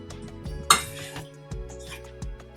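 Ginger and garlic paste is stirred in a pan, a spoon knocking and scraping against the metal in a few distinct clinks over a steady low hum.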